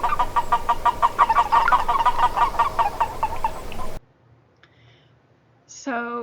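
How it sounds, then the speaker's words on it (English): Many male western toads peep together in a dense, overlapping chorus of quick chirping notes for several seconds, then it stops and a voice begins speaking. "The western toads make sort of a peeping sound"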